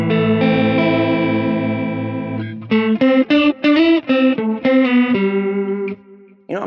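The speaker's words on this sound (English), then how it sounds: "But it almost sounds like your guitar's out of tune." Guitar played through a Mooer Pitch Box pedal set to a detuned pitch shift, giving a wavering, out-of-tune chorus-like tone: a long held chord followed by a run of short picked notes, clear and unaccompanied.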